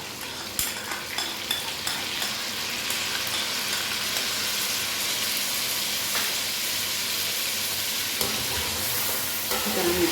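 Chicken frying in a karahi with garlic-ginger paste and yogurt, being stirred, makes a loud, continuous close sizzle broken by scattered scraping clicks from the spoon.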